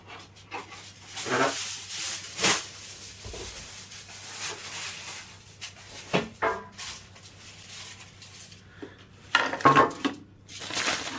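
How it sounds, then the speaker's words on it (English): Foil being handled over a chip pan in a kitchen, with scattered crinkles and sharp metallic clinks of uneven loudness, separated by quiet gaps. "Just putting foil on the chip pan."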